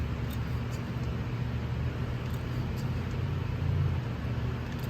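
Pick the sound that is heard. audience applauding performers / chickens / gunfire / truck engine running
truck engine running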